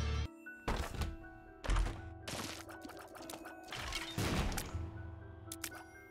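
Explosions and impacts from the video game The Binding of Isaac: Repentance sound as several sharp, heavy thumps with crashing bursts in quick succession over a low background tone.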